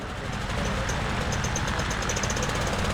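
A Legend Cub airplane with a Titan 370 engine at a STOL competition, a continuous rough engine drone with a faint high tone, heard at an outdoor airshow.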